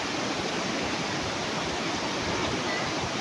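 Clear water flowing in an outdoor natural setting makes a steady, dense rushing wash with no breaks, close and even throughout, with no talk.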